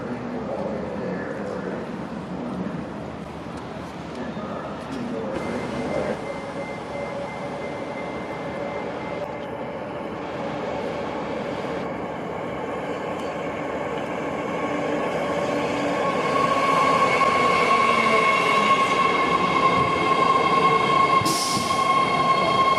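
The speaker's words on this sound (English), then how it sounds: "Here's my train pulling around the bend." A train rolls around a bend into a station, a steady loud rumble of wheels on rails building toward the end, with sustained high metallic wheel squeal ringing over it.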